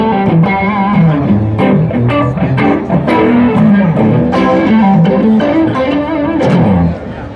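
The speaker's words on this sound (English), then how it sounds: "Let's throw some phaser at it." Electric guitar through a phaser effect pedal and drive, playing busy melodic lines with a swirling, sweeping tone, fairly loud, with a voice speaking under it, heard at a NAMM 2020 show.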